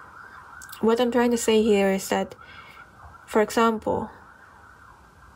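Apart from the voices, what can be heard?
emergency vehicle sirens outside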